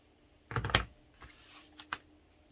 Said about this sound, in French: Je coupe un bout de scotch